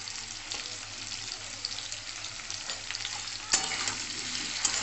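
Pumpkin curry fries in a pan with salt and turmeric while it is stirred, giving a steady soft sizzle with light scraping and one sharp clink partway through.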